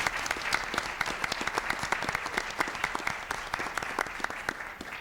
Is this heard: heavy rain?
no